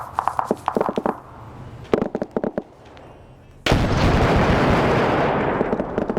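Airstrike explosions in a military video game, a burst of rapid gunfire-like pops followed by a heavy sustained rumbling blast that slowly fades, loud and close with no voices.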